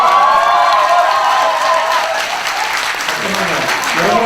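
An audience at a live podcast recording with a guest claps loudly and continuously, a thick wash of applause with some cheering, and a voice speaking over it early on.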